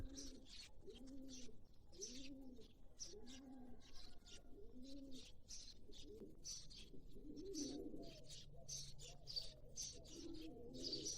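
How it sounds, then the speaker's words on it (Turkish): Birds singing nearby in a village: a pigeon's repeated soft cooing in a steady rhythm, with bright chirps and tweets overhead. "Duyabiliyor musunuz bilmiyorum ama çok güzel kuş sesi var."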